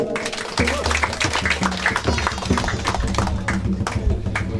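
An audience at a Biak traditional bride-price procession claps steadily in a dense patter of applause. A voice speaks over the clapping.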